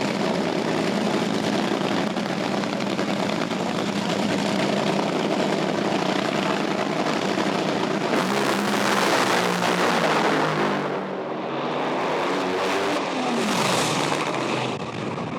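A Top Fuel drag racing car makes its run and smokes the tyres, a loud, sustained engine roar that surges, dips briefly and then swells again, heard alone without any voices.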